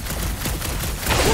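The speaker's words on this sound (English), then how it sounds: "Just making sure my guns work" Quill's guns firing in Guardians of the Galaxy on PC, a quick volley of blaster shots over busy game ambience that swells louder toward the end.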